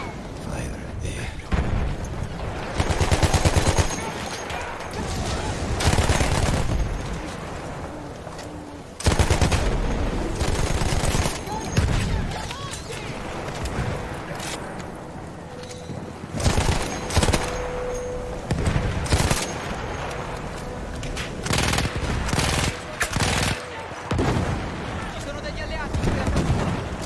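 Gunfire fills a Battlefield 1 battle on the Italian front: bursts of automatic weapons and heavy booming blasts, loud and dense in waves, with shouting voices mixed in.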